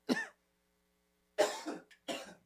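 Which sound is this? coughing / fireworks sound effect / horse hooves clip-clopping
coughing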